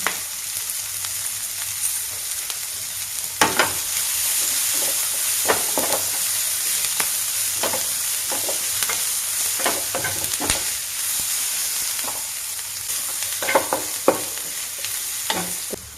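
Ginger garlic paste sizzles with mushrooms and capsicum in a hot pan, a steady close frying hiss broken by scattered scrapes and stirring knocks.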